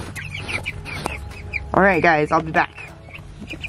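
Cornish chicks in a warm chicken greenhouse give a short burst of harmonic clucking calls near the middle, close and fairly loud, with a person talking before and after.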